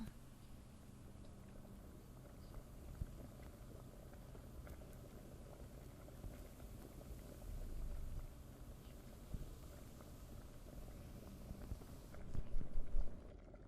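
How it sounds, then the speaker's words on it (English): Cherries simmer over a fire in a cosy magical bakery, a steady faint bubbling and low crackle running throughout with soft rumbling, swelling slightly near the end. "Alright, let's get this fire started. Get these cherries simmering."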